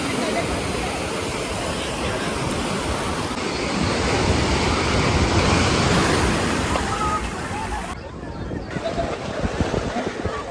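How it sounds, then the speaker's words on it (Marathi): Sea waves at Mankeshwar beach in Uran, a continuous loud wash of surf with wind buffeting the microphone, swelling midway, with crowd and voices in the background. "किती पाणी आलेलं इकडं समुद्रावर आलेला आम्ही इथं मानकेश्वर बीचला"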